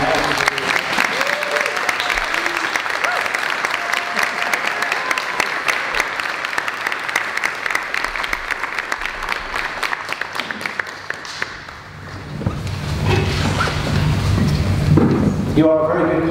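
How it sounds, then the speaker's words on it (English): A church congregation applauds after the kiss at a wedding ceremony, loud sustained clapping from a full room that dips briefly and swells again, with a few voices mixed in. "we're now going to give you a spontaneous round of applause"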